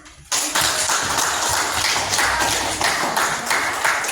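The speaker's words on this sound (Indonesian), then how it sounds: "kalau sudah silakan berikan tepuk tangan" Applause from a classroom of students for group presentations, a dense patter of many hands clapping that starts abruptly and carries on steadily at close range throughout.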